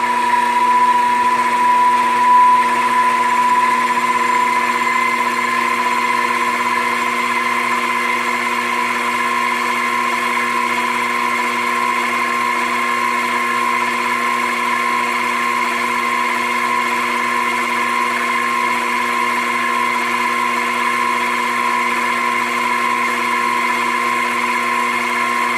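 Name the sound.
Grizzly mini lathe running at 2,000 RPM in reverse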